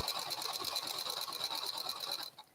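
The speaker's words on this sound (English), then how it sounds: "So right now I'm just sewing a straight line down the whole thing." A serger stitches a straight seam along knit fabric for a headband, a loud, steady rapid mechanical chatter running continuously before stopping abruptly near the end.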